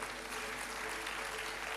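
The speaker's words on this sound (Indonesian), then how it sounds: "Oke, berikan tepuk tangan buat Tuhan." Church congregation clapping in praise during a sermon, a continuous, faint wash of applause under a steady low hum.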